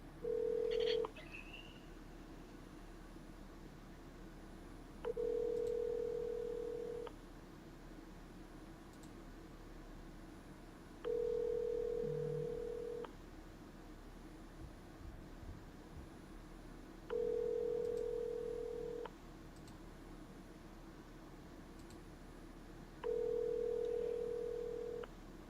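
An outgoing telephone call rings back at steady intervals, five separate buzzing tones each lasting about two seconds, fairly faint over quiet hiss with no one speaking.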